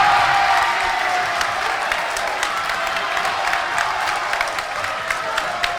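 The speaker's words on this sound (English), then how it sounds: "this crowd is loud" A loud crowd cheers and applauds at a high school varsity basketball game between Loyola Blakefield and St. Frances Academy, a dense, continuous roar of clapping and shouting filling the gym late in a close game.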